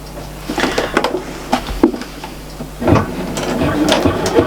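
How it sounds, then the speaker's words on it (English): A sewing machine stitches a quilted Christmas tree mat in short bursts of running needle noise separated by brief pauses, close and fairly loud, with no talking. "So I'll do a little bit of stitching first, put my needle down and then just trim my thread off."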